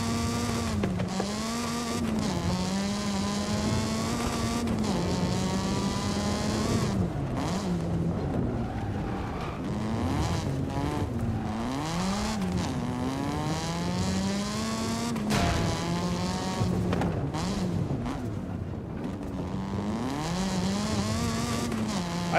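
Raspy engine and exhaust note of a car driven in Forza Horizon 5, revving up and down through gear changes in a continuous loud drone with no talking.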